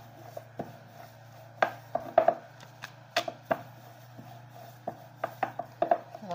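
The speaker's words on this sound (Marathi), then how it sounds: "ही अशी मोठी पातळ लाटून घ्यायची पोळी" A rolling pin works a thin sheet of wheat flour and semolina dough for savoury shankarpali, giving irregular light knocks and soft rubbing against the board over a low steady hum.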